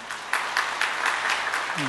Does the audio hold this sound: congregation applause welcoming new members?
yes